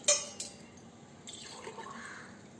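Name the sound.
pouring water into a saucepan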